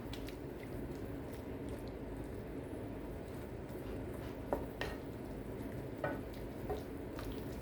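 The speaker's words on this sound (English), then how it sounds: "So the shrimp, so you try to flip over the shrimp. Try to do it evenly. This is part of stir fry." Shrimp stir-frying in a pan on a butane stove, a steady low sizzle with occasional soft scrapes and clicks of a utensil turning the shrimp, close and fairly quiet with no talk.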